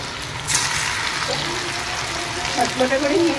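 Chicken pakora frying in hot oil gives a steady sizzling hiss at home, with talk over the sizzle.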